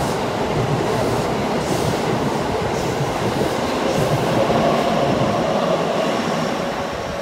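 A Keisei express train passes through a station at Higashi-Nakayama without stopping, giving a loud, steady rumble with wheel clatter that holds for the whole clip, no talk.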